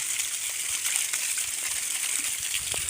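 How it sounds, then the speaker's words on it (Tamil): Water pouring steadily from a water source into a tank on farmland, a continuous close rushing and splashing gush with no pauses and no talk. "நல்லா தண்ணிங்க தண்ணி வருங்க நல்லா இப்படியே விழுந்துட்டே இருக்கு"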